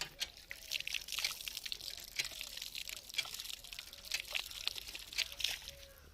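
Water runs from a tap at a dargah in uneven, splashing bursts, close and fairly quiet.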